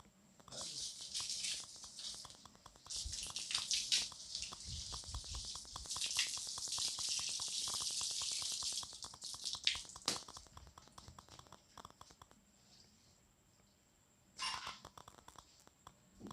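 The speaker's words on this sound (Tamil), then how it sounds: "ஸோ நல்லா வாட்டரை ப்ரெஷர் பண்ணி அதில் அடிக்க போகிறோம்." A pressurized water jet sprays onto a bike chain during a home cleaning, making loud, rough hissing bursts that stop and start, then fade to a quieter spray near the end.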